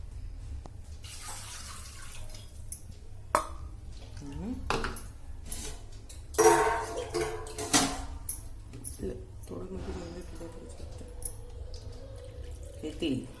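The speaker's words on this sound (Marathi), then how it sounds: "3 वाट्या आपण याच्यात पाणी घेतलंय." Water splashes and pours into a metal pan in short bursts, three cups measured for upvas khandvi, with clinks of utensils and a low background hum.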